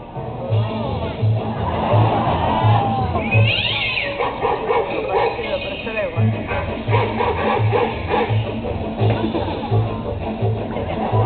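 A cat meows repeatedly during the Animal Actors show at Universal Studios Hollywood, its drawn-out cries rising over audience chatter and a pulsing low beat from the stage sound system.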